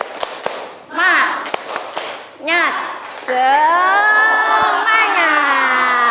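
A class of students claps in a rhythmic spirit-clap pattern, sharp isolated claps at first, then children chant loudly together in unison, the sound close and energetic.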